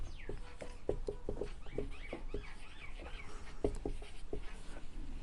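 Someone writing out a physics question, with a close, steady run of scratchy pen strokes and small taps on paper, varying in rhythm and moderately quiet.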